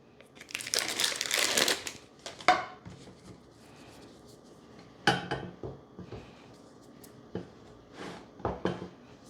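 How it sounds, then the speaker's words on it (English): Salted butter blocks being unwrapped from their packaging, with a long crinkling rustle of wrapper followed by scattered sharp crinkles and light knocks, close by and without talk. "But for now, we have to unpack all of the butter."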